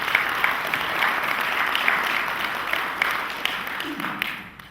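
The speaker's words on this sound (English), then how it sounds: "give OTHS Foundation member Kane Farabaugh a round of applause" Audience applause filling a hall at a high school Hall of Fame induction ceremony, dense sustained clapping for several seconds that thins slightly toward the end.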